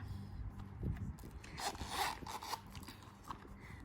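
The zipper on a red Louis Vuitton Clémence zip-around long wallet is drawn open in a quiet, close rasping run with faint clicks and rustles, with no talk over it.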